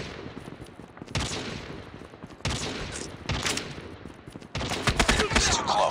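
Rapid bursts of gunfire in Call of Duty Mobile, several separate volleys of loud automatic shots with short pauses between them, the last burst the heaviest.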